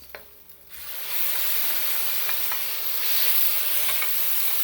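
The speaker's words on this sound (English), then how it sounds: "fry the ginger and the chilies just for a minute" Ginger and chilies hit a hot pan for palak paneer and break into a sharp, steady sizzle after a short quiet start, with light stirring scrapes throughout.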